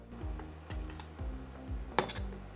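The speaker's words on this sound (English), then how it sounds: "Keep mixing so this doesn't stick to the bottom of the pan." Vegetables are stirred around a pan for a Bolognese sauce, the utensil making repeated scraping, clinking strokes against the metal at a steady rhythm. A louder knock lands near the end, over a low hum of cooking.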